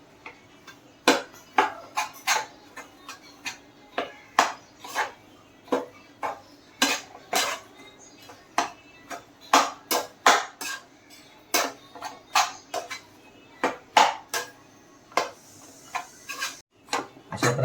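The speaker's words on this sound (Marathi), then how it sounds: "आणि आता आपण ते सर्व मिश्रण करून घ्या याच्यामध्ये." A spoon scrapes and clinks steadily against a pot while stirring Malvani masala and garam masala into a Konkan-style aloo fadfade mixture, giving close, irregular taps with no talking.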